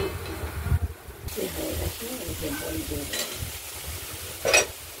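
Chopped banana stem or flower, first rubbed with salt, is stirred with turmeric in a pan for a chhechki with lentil bori: soft sizzling under close scraping stirs, with a clink of utensil toward the end and no talk.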